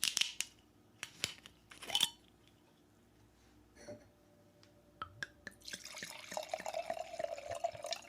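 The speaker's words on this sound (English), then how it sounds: "I'm going to go ahead and open mine up first and get it in the glass" Sake poured from a freshly opened bottle into a glass, with a few clinks and knocks up front, then a steady trickling pour building over the last few seconds, close and fairly quiet.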